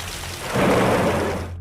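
Heavy rain pours down steadily as a broad hiss, and a low rumble of thunder swells in partway through and holds, loud and close, with no voices.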